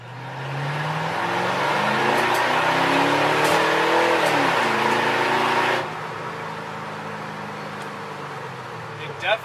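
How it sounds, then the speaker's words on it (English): A hoopty car powered by a Mustang V8 accelerates on a drive, its engine rumbling and rising through the gears from inside the cabin, then easing off into a quieter cruise; a voice is faintly audible. "Let's go take it for a drive and we'll see how it works."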